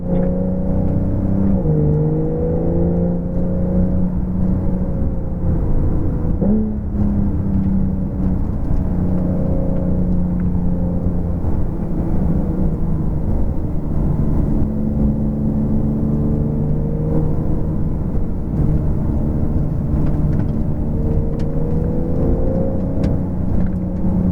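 A pack of Porsche GTS race cars pairs up two by two on the track, with engines droning and revving steadily under a continuous whir and rumble, some cars shifting pitch as they pass nearby.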